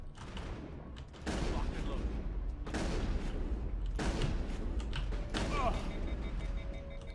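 Rapid shotgun blasts from a Mass Effect shootout in Chora's Den, a series of loud booming bursts with mechanical clatter in between, while someone talks over the gunfire.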